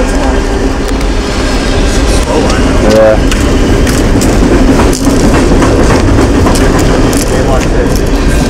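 A freight train rolls loudly past at close range, its wheels clattering steadily over the rails in a continuous rumble, with people talking over the noise.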